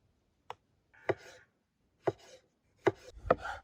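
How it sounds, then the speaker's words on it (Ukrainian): A knife slices through plum tomatoes on a cutting board in a quiet kitchen, with several separate sharp taps as the blade hits the board, each followed by a soft wet cut, close and unaccompanied. "Відриваємо хвостики, розрізаємо томат навпіл та вирізаємо зелену попку"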